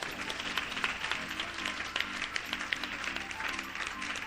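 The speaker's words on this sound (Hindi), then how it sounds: "ताली बजा दीजिए।" A church congregation clapping their hands together in a steady, lively rhythm, the claps dense and bright and continuing without any voices.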